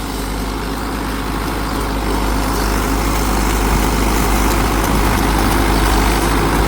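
Sonalika Tiger 75 CRDI 4WD tractor, 75 hp, running a PTO rotavator in third creeper gear while mulching banana plants, producing a loud, steady, low diesel drone with continuous mechanical churning close by.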